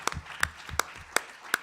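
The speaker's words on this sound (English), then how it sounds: "give a round of applause to the movement's newest PhD, Elaine Wyndham" Five or six sharp, evenly spaced hand claps ring out close and clear during a talk event, honouring a newly graduated PhD, with no voices over them.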